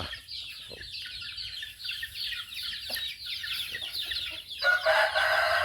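Chickens cluck and chatter continuously outdoors, with a rooster crowing near the end among the flock's busy calls.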